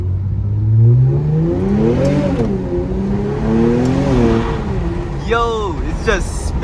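A straight-piped Infiniti Q50 roars under hard acceleration, the exhaust note climbing in pitch through rising pulls and gear changes, loud and close from inside the car, ending with a rapid rev sweep.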